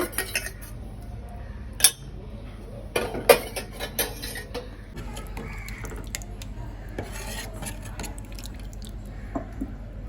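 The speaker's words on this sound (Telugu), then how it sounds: "ఇప్పుడు దోరగా వేయించుకున్న సొరకాయ తురుము ఇందులో వేసుకోవాలి" Fried grated bottle gourd tipped into a pot of cooked sago and stirred, with clinks and scrapes of a metal spoon against the vessel and soft wet squishes, close and fairly quiet.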